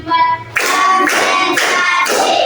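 Children in a classroom clap hands in a steady rhythm of four sharp, loud claps about half a second apart, following a short stretch of quieter sound.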